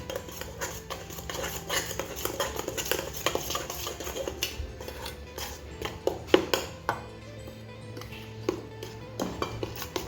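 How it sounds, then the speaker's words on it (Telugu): Millet (arikelu) flour being stirred and mixed by hand in a metal vessel for a jackfruit millet sweet, with steady scraping and clinking of a spoon against the pot and sharper taps near the end. "ఇలా ఎంత పడితే అంత కలుపుకోవాలి, కొంచెం గట్టిగా అయ్యే వరకు"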